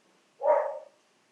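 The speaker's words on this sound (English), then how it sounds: "The dog agrees." A dog gives a single short bark indoors during a calm yoga session, fairly close and isolated against near silence.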